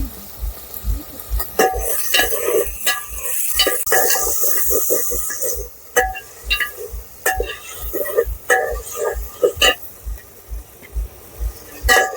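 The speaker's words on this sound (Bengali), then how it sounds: "আমি চিংড়ি মাছটা দিয়ে দেবো, এতে দিয়ে নেড়ে নেবো" Shrimp stirred and fried in a pan: a sizzle runs under repeated scraping and clinking strokes of a utensil against the pan, which come in an irregular rhythm, fairly close and loud.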